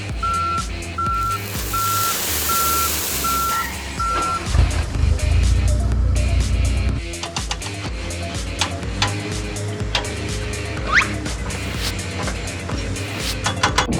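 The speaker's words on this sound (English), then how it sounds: "The truck carrying sand has arrived at the construction site." A sand truck arrives at a road construction site with a steady reversing beep and a rumbling engine. The beeping stops partway through and the truck keeps idling and grinding up close.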